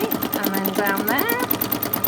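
A sewing machine stitches through vintage postcards in short repeated bursts of rapid needle clatter, with someone talking over the mechanical whir throughout.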